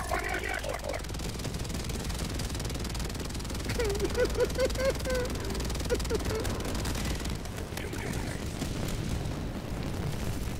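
Bombing explosions rumble through a Helldivers firefight, with a sustained roar of blasts and debris carrying on for about ten seconds and faint voices underneath.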